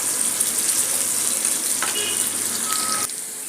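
Bitter gourd frying lightly in a pan for chutney, a steady close hiss of oil that runs unbroken and softens slightly near the end, with a faint clink partway through.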